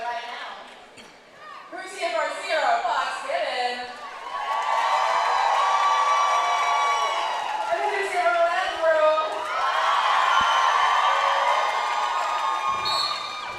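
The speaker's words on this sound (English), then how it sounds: "Wonderful response from the crowd here" Loud roller derby crowd at a Roller Derby World Cup match between Scotland and Austria, with sustained cheering, whoops and shouts swelling around two seconds in and holding steady, with voices mixed through the noise.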